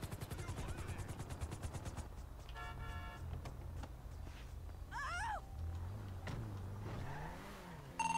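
Video game gunfire from police and a helicopter: a fast, rapid-fire burst lasting about two seconds, followed by quieter mixed in-game sounds, with no one talking.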